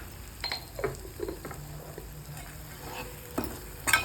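Vegetables sautéing in oil for a hotel-style potato and cauliflower dish, a low continuous sizzle under repeated stirring knocks and scrapes of a spoon against the pan, with a sharper clatter near the end.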